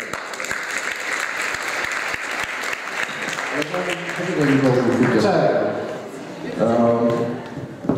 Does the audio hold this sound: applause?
yes